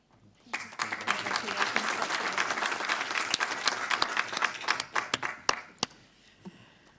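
An awards ceremony audience breaks into a full round of applause for a teaching award recipient, dense clapping swelling, holding for several seconds, then thinning to a few scattered claps.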